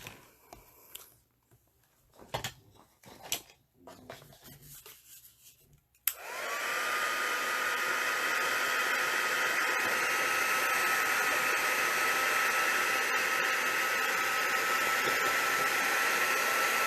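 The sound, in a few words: hair dryer blow-drying hair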